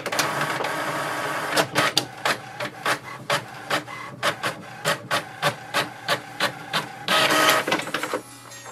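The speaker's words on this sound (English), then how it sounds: "it will send a command for the printer to print the page" An HP Envy 6030 all-in-one inkjet printer prints an information page, giving close mechanical whirring with a steady run of rhythmic clicking strokes as the paper feeds through, followed by a brief louder grinding burst.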